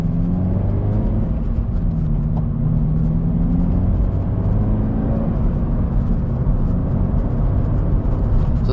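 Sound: car with aftermarket exhaust driving on bumpy road

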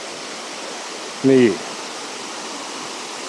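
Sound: Erawan waterfall flowing below a bridge

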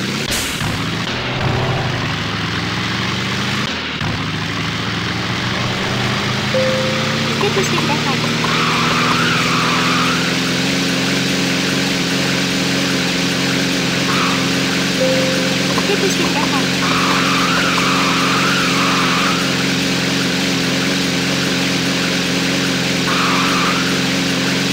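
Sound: race car driving off, skidding, Thrill Drive 2 video game

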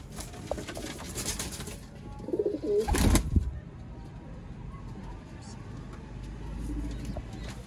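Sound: Sialkoti pigeons cooing

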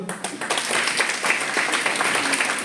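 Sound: students applauding at a college function

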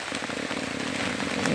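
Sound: rain pouring down

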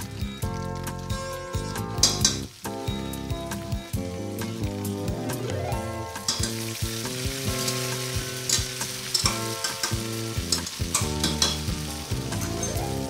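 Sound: onions frying and sautéing in pan for vegetable biryani

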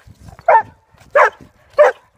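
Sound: dog barking

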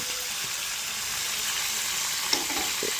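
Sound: spices frying and sizzling in oil for olive pickle

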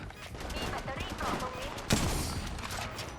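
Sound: gunfire in the video game Apex Legends Mobile

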